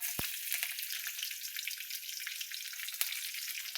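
Curry leaves and chopped garlic fry in hot oil, giving a steady, close crackling sizzle with no voices, opening with one sharp pop.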